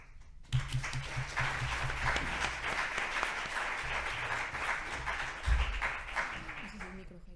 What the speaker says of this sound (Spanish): por favor os pido un aplauso muy fuerte para María Ángeles y Jairo